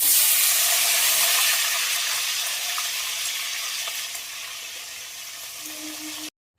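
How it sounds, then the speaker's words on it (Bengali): Catla fish frying in hot oil in a wok hisses in a loud, continuous sizzle that eases slightly over several seconds before cutting off abruptly near the end. "মাছ এক পিঠ ভাজা হয়ে গেছে, আর এক পিঠ ভাজার জন্য উল্টে দেবো।"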